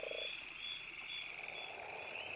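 Leopard toad calling with a steady, continuous trill that carries on throughout, moderately faint against a dense background chorus.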